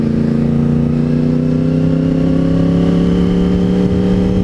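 A motorcycle engine in race mode holds a steady, loud, sustained drone with no pauses and no voices.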